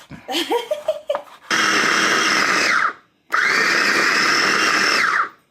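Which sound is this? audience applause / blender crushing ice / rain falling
blender crushing ice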